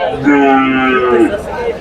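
A cow moos loudly and close by at a busy livestock market, one long sustained low call with a rising, bending tone, over a faint background murmur of the crowd.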